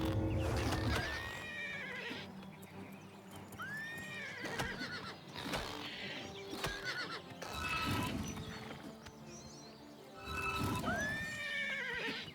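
A horse whinnies three times in Oblivion, high sweeping cries, over a steady backdrop of game music and clip-clopping hooves.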